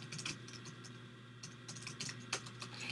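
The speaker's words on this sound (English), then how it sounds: "So we can just type in whatever we want." Light, uneven tapping of a computer keyboard while text is entered into a website page editor, soft clicks in short bursts over a low background hum.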